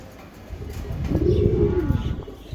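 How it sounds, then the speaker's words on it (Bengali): A racing pigeon gives a single soft, close coo, a low rounded call that swells and fades within a couple of seconds. "নটটা হলো একটা বিদেশি কবুতর"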